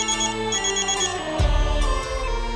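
A mobile phone rings for an incoming call with a bright, melodic electronic tune that repeats throughout, loud and close, with a low thump partway through.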